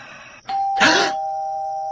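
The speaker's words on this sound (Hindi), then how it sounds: "कि तभी फिर से घंटी बजी।" An electronic doorbell chime rings once, a two-tone ding-dong with a lingering tone, heard alone in a quiet room.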